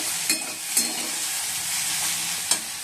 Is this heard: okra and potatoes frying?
yes